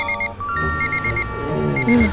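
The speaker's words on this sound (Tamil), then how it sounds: "அலாரம் அடிக்கும் பாரு." An alarm clock ringing at night, sounding in repeated short high electronic beep bursts with gaps between them, with low rumbling sounds underneath toward the end.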